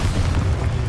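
Spell explosion in Hogwarts Legacy, a single loud, deep rumbling boom that fills the whole moment without letting up.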